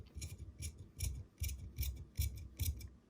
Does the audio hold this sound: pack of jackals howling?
no